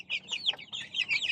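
Brahma chicken, a large breed of hybrid fowl, clucking in a quick series of close, bright calls with short gaps between them.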